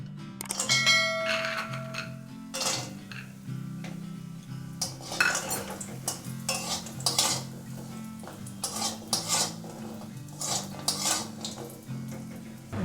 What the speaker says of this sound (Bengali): বড়িটা ভেজে নেবে